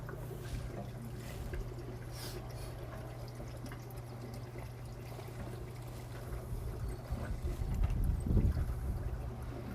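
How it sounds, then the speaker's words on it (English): Water from a sludge return line filling a 1 liter container, a faint continuous trickle and pour over a steady low mechanical hum, swelling slightly louder toward the end. "filling our 1 liter container and timing how long in seconds it takes to fill it"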